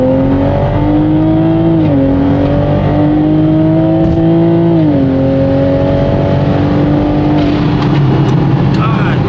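A Toyota Supra MKV with a drag pack setup accelerating hard in second gear on slightly wet pavement, its loud engine drone climbing steadily through the rev range with gear-like dips and shifts, heard from inside the car.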